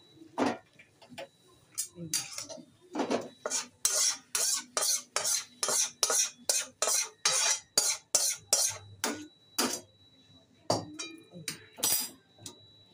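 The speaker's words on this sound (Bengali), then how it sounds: "এই যে আলুর দম হয়ে গেছে, দাঁড়ান ঢেলে নিই। এদের থালায় ঢেলে নিয়ে দেবো।" Potato aloo dum scooped from a pot onto plates, a long run of steady rhythmic metal scraping and clinking from a spoon against cookware, close and fairly quiet.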